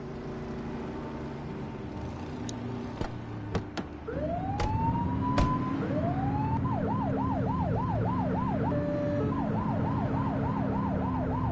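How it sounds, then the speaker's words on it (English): Police car siren in The Precinct video game, starting with a rising whoop and settling into a fast, steady wail over a low engine drone, loud and close, with a few clicks before it begins. "Turn that siren off."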